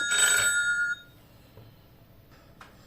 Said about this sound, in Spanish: Perdonad por el ruido, que me estaban llamando y he tenido que parar un momento el vídeo